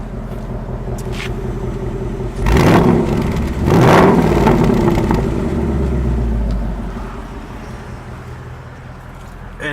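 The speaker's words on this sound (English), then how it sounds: "now let's put it in normal mode, see how it sounds." Low idle from a 2018 Ford Mustang GT, active exhaust set to normal mode, broken by two stronger throttle blips whose roar swells and fades back into a deep, steady burble.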